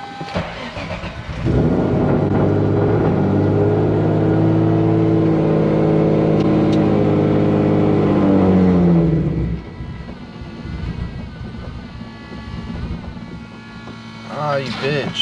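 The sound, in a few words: turbocharged Nissan Z car engine accelerating hard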